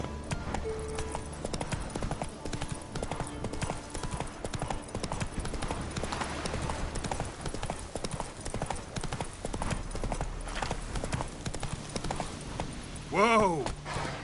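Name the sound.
horse Roach clip-clopping in video game The Witcher 3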